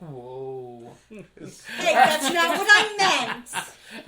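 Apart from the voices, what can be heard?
No distinct noise like a dog, phone or traffic.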